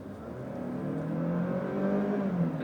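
A 2014 Chevrolet Sonic LS sedan with a 1.6-litre, 116-horsepower four-cylinder engine accelerating, heard from inside as a steady, moderately quiet whir that climbs gradually in pitch.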